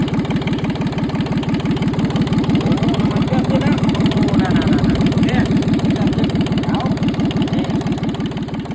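A Yanmar 3TN63 three-cylinder diesel engine rated at 13 horsepower runs close and loud, with a steady, even rhythmic chug that holds throughout, and faint talk can be heard beneath it.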